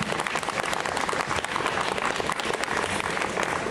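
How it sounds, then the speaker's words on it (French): A convention audience applauds a masquerade costume contestant at Fantasticon 2017, producing a thick, continuous wash of clapping that holds steady for nearly four seconds with no talking. "On peut l'applaudir."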